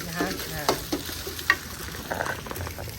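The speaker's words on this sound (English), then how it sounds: "Scramble until the egg becomes dry." Egg being scrambled and stirred in hot oil during a Thai cooking class, with steady frying sizzle and repeated scraping clicks of the utensil against the pan, close and moderately loud.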